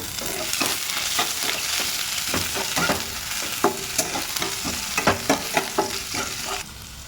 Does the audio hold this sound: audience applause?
no